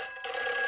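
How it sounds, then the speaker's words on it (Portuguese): Cartoon fire station telephone ringing, a bright sustained electronic bell that starts suddenly and rings continuously, loud and alone. "Esse é o telefone do bombeiro."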